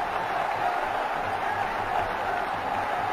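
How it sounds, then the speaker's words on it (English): Cricket stadium crowd during a one-day international, a steady broad roar of many voices held at an even, loud level throughout, with no individual words standing out. "Noise from the crowds."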